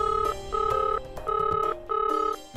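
Telephone ringing heard through a speakerphone during a call, a repeating electronic ring tone in bursts of about half a second with short gaps, clear and fairly loud with no talk over it.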